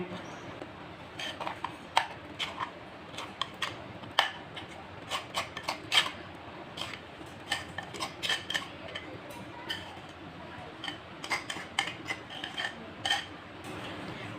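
A thick spice paste is mixed into chicken pieces for a chicken roast, producing irregular soft clicks and taps of utensil against a bowl or dish over a quiet background, close and without talking.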